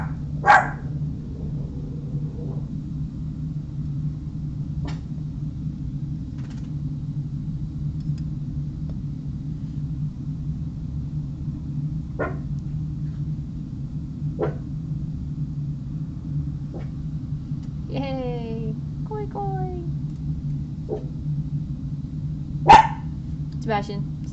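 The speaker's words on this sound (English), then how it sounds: "Oh, the gardeners. Yes. That's why he's barking." A dog barks at gardeners working outside, giving a few sharp, scattered barks at middling distance over a steady low rumble of background noise, with a louder bark near the end.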